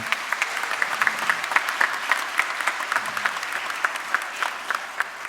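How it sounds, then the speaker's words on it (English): Audience applause at an America the Beautiful concert, a steady wash of many hands clapping with sharp individual claps standing out throughout. "One more round of applause for everyone who served our country."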